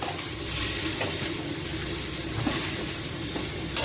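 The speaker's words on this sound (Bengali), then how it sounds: "এটা নেড়ে ফেলে নিচ্ছি।" Vegetables seasoned with salt and a little turmeric sizzle steadily in a pan for a Bengali potato dish, with scraping stir strokes now and then and a brief clatter near the end.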